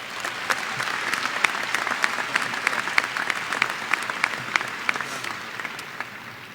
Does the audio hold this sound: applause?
yes